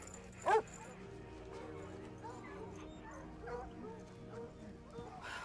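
Dogs bark during a search scene in a TV show, one sharp nearby bark standing out early, then softer yips and whimpers under continuous talk and background noise.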